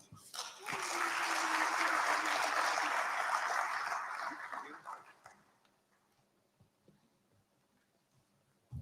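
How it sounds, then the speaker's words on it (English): Conference audience applauding at a Ghana innovation event, a dense, loud burst of clapping that swells quickly, holds steady for about four seconds, then fades into quiet room tone. "One more time, ladies and gentlemen, a round of applause"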